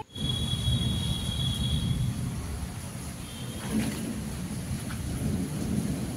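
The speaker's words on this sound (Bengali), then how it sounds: "বৃষ্টি হচ্ছে, হালকা হালকা বৃষ্টি হচ্ছে" Steady light rainfall hisses continuously with a low rumbling undertone and a faint high whistling tone near the start; no talking.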